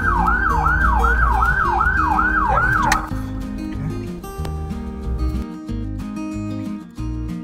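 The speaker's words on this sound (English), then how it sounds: "And you know how to activate the siren?" An ambulance siren switched on, its rising-and-falling wail loud and close for about three seconds, then cut off, leaving engine and road noise from inside the vehicle.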